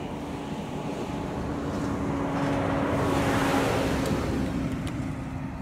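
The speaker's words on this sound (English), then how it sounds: "let's get out of the way of this dump truck." A dump truck passing on a road outdoors, its engine rumble swelling steadily to a peak about midway and then easing, with wind noise and no talk.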